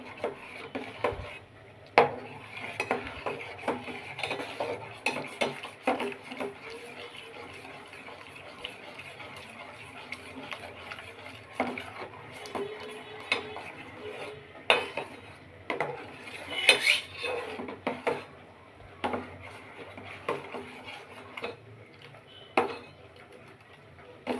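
A pot of milk being stirred into hot water while making rice payesh, with repeated clinks and scrapes of a spoon against the metal pot, moderately close and fairly quiet, with no talking.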